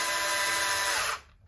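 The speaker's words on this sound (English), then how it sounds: "drill a little bit deeper to countersink it" Electric drill countersinking a hole for a switch on a Harley Benton SC Custom Line guitar, a steady loud whine that runs for about a second before cutting off abruptly and spinning down.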